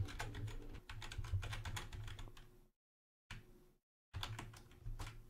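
Rapid clicking on a computer keyboard, close and fairly quiet, runs in quick bursts broken by two short silent gaps.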